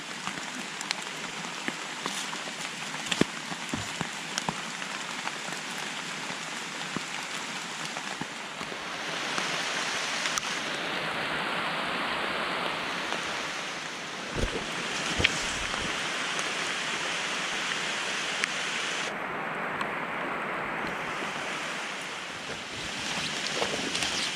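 Heavy rain falls in a forest during wild mushroom picking, a dense continuous hiss of drops on leaves and ground that holds steady throughout, with a few sharper drips up close.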